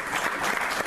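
Dense applause from an audience at a local event in Irpinia honoring its organizers and artists, a loud, continuous patter of many hands with no voices on top.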